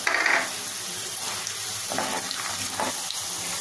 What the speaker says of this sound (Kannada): ಇದನ್ನು ಸಹ ಸ್ವಲ್ಪ ಹೊಂಬಣ್ಣ ಬರೋವರೆಗೂ ಒಂದು 2 ನಿಮಿಷ ಫ್ರೈ ಮಾಡ್ಕೋಬೇಕು